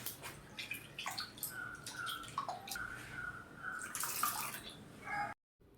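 Tamarind water pours and splashes into curry paste in a container, with soft drips and trickles; brief clatter near the end before it cuts off.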